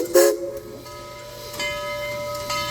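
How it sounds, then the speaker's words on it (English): At the Tennessee Railroad Museum in Chattanooga, a museum locomotive moves past its train with a brief sharp whistle blast at the start, then a steady hiss and low mechanical rumble. "our locomotive is going to go past our train and then through a switch"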